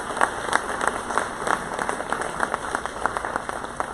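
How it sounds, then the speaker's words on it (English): Steady audience applause at the Zebulon Chamber annual meeting and Citizen of the Year celebration, dense overlapping claps filling the room at moderate loudness with no talking. "Would you help me give them a round of applause?"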